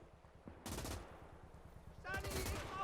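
Gunfire from a sniper aimed at a machine gunner in a WWII real-time strategy game, with two loud bursts of shots separated by a quieter stretch, the second burst longer and layered with rattling fire.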